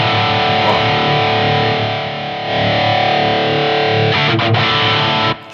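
Distorted electric guitar tone played back through a ToneX pedal's player, a dense sustained crunchy sound at steady loudness with a brief dip midway and choppier strummed bursts near the end.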